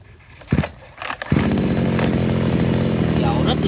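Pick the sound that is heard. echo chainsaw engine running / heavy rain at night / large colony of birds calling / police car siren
echo chainsaw engine running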